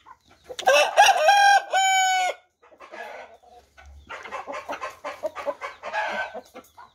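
A young Argentine Asil rooster crows loud and close, one long harsh crow, then a pause and a run of softer, choppy clucking calls.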